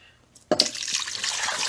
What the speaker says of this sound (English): Let me get some water on it.